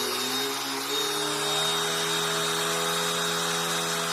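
A Bissell PowerLifter bagged pet vacuum runs with a steady, loud whine and roar while sucking up chainsaw sawdust, its tone holding constant close up.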